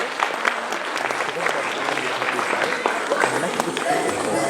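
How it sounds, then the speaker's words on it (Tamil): An audience gives big applause to the Dhwani dance team, with a dense, continuous clatter of many hands, close and fairly loud, and a few voices mixed in. "மறுபடியும் இவர்களுக்கு ஒரு பெரிய கைத்தட்டல் நம்முடைய நன்றியை தெரிவிக்கலாமா துவனி குழுவினருக்கு?"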